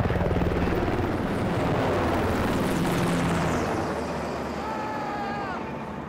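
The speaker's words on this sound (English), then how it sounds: "Brought in a couple HH-60 Pave Hawk helicopters." HH-60 Pave Hawk helicopter rotors thump loudly and continuously nearby, their steady chop slowly easing toward the end.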